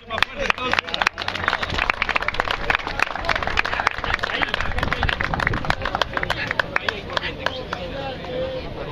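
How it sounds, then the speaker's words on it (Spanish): At an outdoor fishing contest in Miramar, a crowd claps in uneven, sparse bursts of sharp individual hand claps, with talk and babble mixed underneath. "Los aplausos, a ver que se escuche más fuerte entonces."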